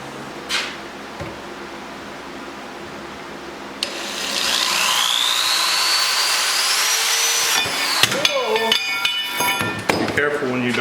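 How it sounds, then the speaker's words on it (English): A power drill bores into the end of a quad bike frame for a GSX-R powered build, its steady whine rising and holding for several seconds before breaking into clanks and metallic rattles, with a voice briefly present. "let's get this end drilled"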